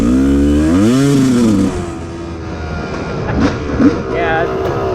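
Yamaha YZ250 two-stroke dirt bike engine running rich, revving up and down with a blubbery, uneven tone before settling into a rougher idle, close and loud, with a voice speaking over part of it.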